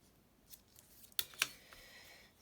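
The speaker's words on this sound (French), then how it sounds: "je vais la couper très très peu" Scissors cutting paper for a junk journal: a few soft close snips, with two sharp crisp cuts in quick succession near the middle, in a quiet room.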